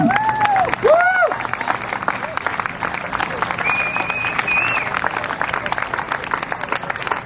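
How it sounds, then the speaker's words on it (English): Audience at a veterans night event applauds veterans, steady crowd clapping throughout with a few whoops and cheers rising over it near the start and middle. "we'd love to give you another round of applause"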